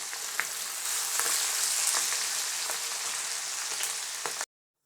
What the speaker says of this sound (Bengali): মাছটার মধ্যে কিন্তু আমি লবণ আর হলুদ দিয়ে এখন একটু ভেজে নিব